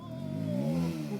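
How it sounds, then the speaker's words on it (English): A Suzuki DRZ 400 motorcycle engine revs loudly and rises in pitch as it approaches close by, a brief strong roar over outdoor background noise. "Here comes the DRZ 400"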